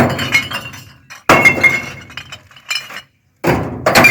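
Glass bottles crash and clink one after another as they drop into a bin, in several loud bursts separated by brief pauses.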